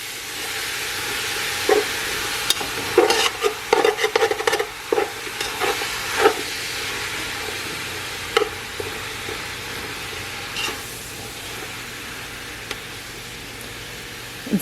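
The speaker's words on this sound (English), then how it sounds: "I'm just going to give this a stir" Vegetables for a low-carb cauliflower lasagna stirred in a pan, a soft constant hiss and sizzle broken by clustered spoon scrapes and knocks early on, then quieter occasional taps, no voices.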